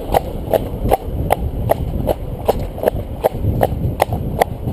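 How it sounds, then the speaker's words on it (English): Hooves clip-clop at a steady, even trot on a road, each ringing strike evenly spaced and close, with a faint background rumble and no voices. "There's nothing like these long trots to settle a horse."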